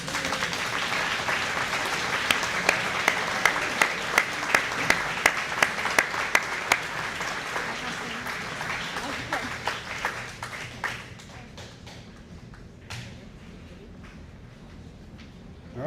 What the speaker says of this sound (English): Clap away.